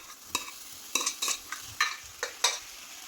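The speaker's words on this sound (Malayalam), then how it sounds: "ഒന്ന് ഇളക്കി കൊടുക്കാം നല്ലതുപോലെ." A spoon stirs spinach, potato and coconut thoran in a pan with a soft sizzle underneath, giving about eight sharp scraping strokes at an uneven pace, close and fairly loud.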